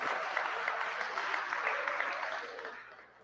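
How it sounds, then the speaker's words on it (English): Audience clapping at a lecture on the Moors, a steady wash of applause from a crowd of listeners that holds level and then tapers off toward the end. "Yeah, you can clap."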